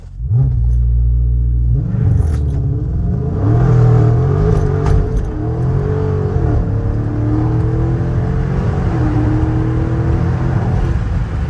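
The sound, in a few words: Dodge Challenger Scat Pack Last Call launching, engine revving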